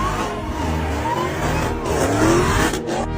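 Ethanol-fuelled race car accelerating hard from a standstill, a loud continuous engine roar with rising pitch and some tyre noise, steady and close throughout.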